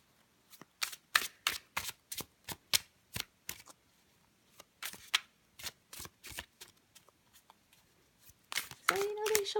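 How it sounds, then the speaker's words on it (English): Tarot cards are shuffled in quick repeated riffles, a rapid run of crisp flutters with short pauses, close up, ending in a burst of louder card handling. "I like to hear cards shuffle. I like to hear how they shuffle."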